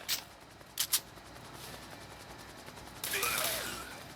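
Gunfire from shooting zombies in the Zombie Frontier 4 video game: a few sharp shots early, a quick pair near the start, then a louder burst of rapid fire, all over a steady low game background.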